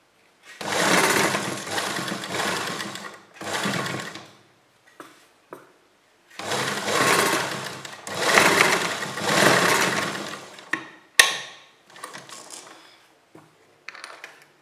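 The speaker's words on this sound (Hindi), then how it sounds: "हम यहाँ नीचे से इसको अंदर की तरफ फोल्ड कर लेंगे और यहाँ पर सिलाई लगा देंगे।" A sewing machine stitches folded fabric on a collar neck in several short bursts of rapid mechanical clatter, separated by quiet pauses and a few small clicks and knocks.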